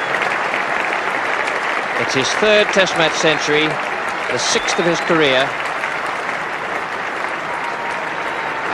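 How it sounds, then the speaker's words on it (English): A crowd at Lord's gives a sustained ovation of applause during the 1980 England v Australia Centenary Test as a batsman reaches a century; someone commentator talks over the steady clapping. "A marvellous ovation from the crowd, from his teammates."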